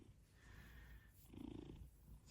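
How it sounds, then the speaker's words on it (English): A cat purrs softly and close by, a low steady rumble that swells slightly near the end in a quiet room. "Purring."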